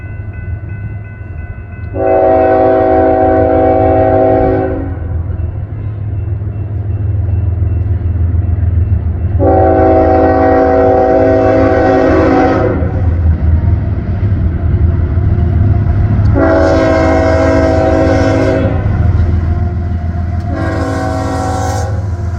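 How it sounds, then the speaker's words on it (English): Norfolk Southern coal train, running empty on the Mon Line, rumbling steadily nearby while its horn sounds four loud blasts, long ones first and shorter ones at the end, over continuous rail noise. "But yeah, coal train is a little bit down there."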